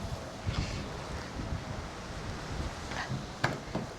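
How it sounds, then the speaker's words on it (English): Strong outdoor wind buffets the microphone with steady low rumble and gusts, a few sharper knocks breaking through, while a 4th Gen Toyota Tacoma's hood lift is being installed; no speech. "I don't know if you guys can hear the wind, but it's super windy today."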